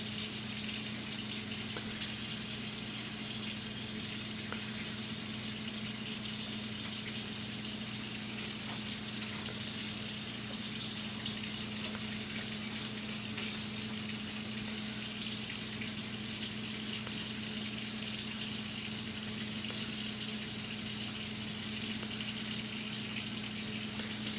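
Water runs steadily from a tap, a constant hiss and gush that continues unbroken throughout with no talking.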